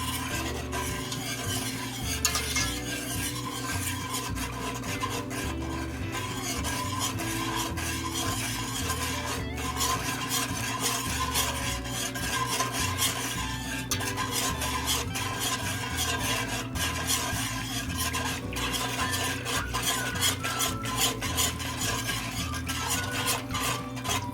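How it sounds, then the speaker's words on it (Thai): Steady scraping and swirling of a spoon stirring sugar and vinegar in a pot until the sugar dissolves, continuous and close, with a constant background hum. "คนให้น้ำตาลทรายละลาย นะคะ"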